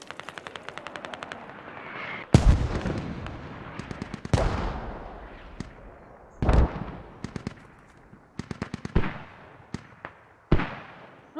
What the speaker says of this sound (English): Mortars still coming down on West Moog.